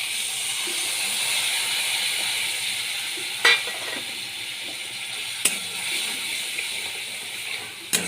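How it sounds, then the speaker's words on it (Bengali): Spices with turmeric sizzle and hiss in a pan with cauliflower and potato as they are stirred, the constant frying noise broken by a few sharp scrapes and clinks of the spoon against the pan; nobody talks. "ভালো করে কষিয়ে নিচ্ছি"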